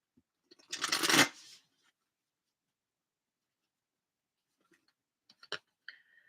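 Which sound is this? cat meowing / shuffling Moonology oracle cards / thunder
shuffling Moonology oracle cards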